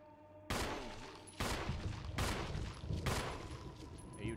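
Four heavy gunshots blast at an enemy in the Resident Evil video game, spaced about a second apart, each a loud broadband crack with a decaying tail over a low ambient hum.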